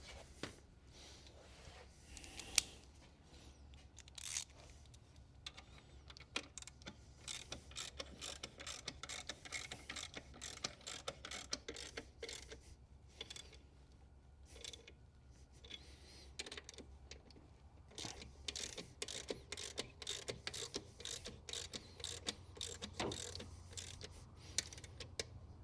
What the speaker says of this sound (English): That's going to need a ratchet.